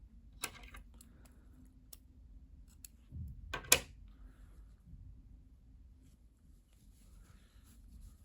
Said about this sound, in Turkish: İplik kesiyorum.